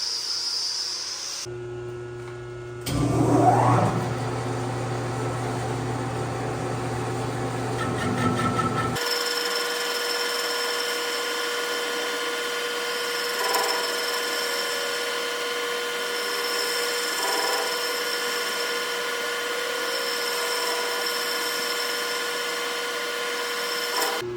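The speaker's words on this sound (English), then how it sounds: "Now we're gonna get it all trued up and then start machining it to couple together with the other bar." A metal bar turns on a lathe as it is trued up and machined for coupling in a two-piece line boring job, giving a steady machine whine with sustained tonal hum after a brief louder clatter near the start.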